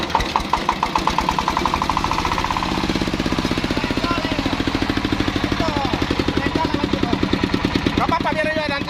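The large engine of a concrete casting machine, used for pouring a second-floor slab, runs with a loud, fast, even knocking chug close by. Voices are faintly audible in the background.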